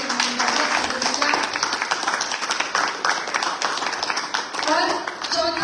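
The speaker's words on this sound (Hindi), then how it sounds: "हमारे म्यूजिशियंस के लिए एक बार जोरदार तालियां" Audience at a Shrimad Bhagwat religious discourse clapping loudly for the musicians, a dense, continuous burst of applause that fills the space, with voices mixed in.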